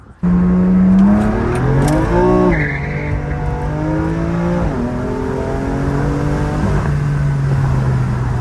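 A BMW M2 engine revs loud and close as the car drives off, pitch climbing through gears with clear shift drops and a steady cruising drone afterward, no voices.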